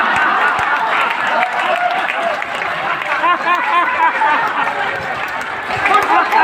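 Devotees at a temple clap in dense, uneven bursts, mixed with laughter and lively chatter from a close crowd, loud and continuous throughout.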